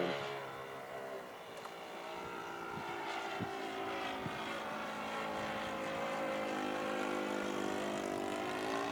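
An O.S. 61 four-stroke engine powers an RC F4U Corsair model plane, a semi-scale Great Planes Sport Corsair 40, droning steadily throughout with a harmonic buzz that holds near and loud without a break.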